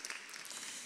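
Applause from a summit audience, a steady wash of many hands clapping at moderate distance, heard alone in a brief burst.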